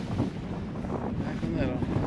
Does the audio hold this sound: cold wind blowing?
yes